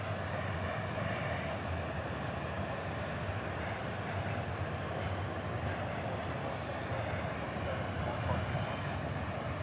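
Steady, distant jet engine rumble of an airliner taxiing at DFW airport, a continuous broadband drone with no clear rise or fall throughout.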